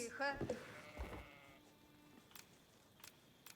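A sheep gives a short, wavering bleat at the very start of a video game scene, followed by quieter clicks and soft background game noise.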